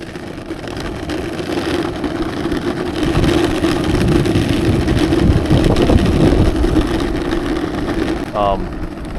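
A homemade electric vehicle ridden at speed mode 3, about half throttle and reaching roughly 22 to 23 km/h. A steady, loud whirring rush of motor and road noise runs throughout, with a short rising whine near the end.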